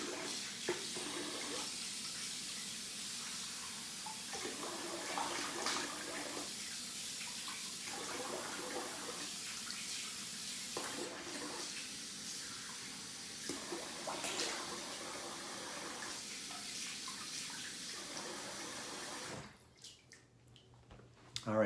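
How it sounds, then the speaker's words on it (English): Tap water runs steadily into a sink while a face is rinsed during a shave, the splashing flow rising and dipping in uneven pulses before cutting off near the end, with no talk. "I'm gonna rinse the face."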